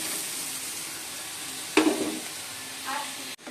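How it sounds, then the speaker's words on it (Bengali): Bitter gourd and onion fry in a pan with a steady low sizzle, broken midway by a single stir or scrape and a softer clatter near the end. "করলা আর পেঁয়াজ ভাজা হয়ে গেছে"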